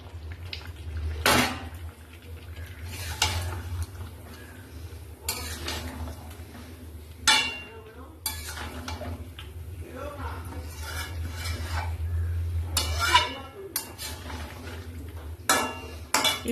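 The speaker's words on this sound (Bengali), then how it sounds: "এবার বন্ধুরা ভেজে রাখা আলুটা চিকেনের মধ্যে দিয়ে দেবো" Fried potatoes tipped into a pot of chicken curry and stirred, metal spoon scraping and clanking against the pot in scattered bursts over a low steady hum, with a voice talking softly at times.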